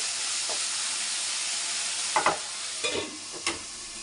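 Ginger garlic paste sizzling in a pan for a village-style brinjal gojju, a steady close hiss with a few soft stirring scrapes near the end and no talking.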